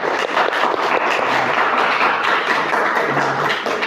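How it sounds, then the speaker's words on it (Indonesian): Classmates in a school lesson clap for a fellow student, a fairly loud, busy patter of many hands that swells quickly and holds steady for a few seconds. "tepuk tangan untuk teman kalian ya"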